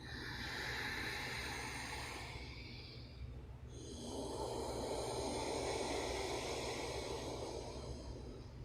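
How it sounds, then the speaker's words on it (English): Several people take a slow Ujjayi breath with a slight restriction in the throat, a soft, hollow whooshing inhale followed by a longer, ocean-like exhale, faint and close. "could we all do an Ujjayi breath for the podcast?"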